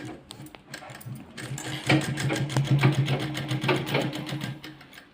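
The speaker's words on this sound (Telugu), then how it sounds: "ఇట్లా జాగ్రత్తగా అన్నీ మనం పెట్టిన అన్నీ పడేటట్టుగా కుట్టి వేసుకోవాలి" Close up, a sewing machine stitches a dotted-shape belt onto the front part of a garment. It starts softly, then runs in a steady, rapid whirr for a few seconds before easing off.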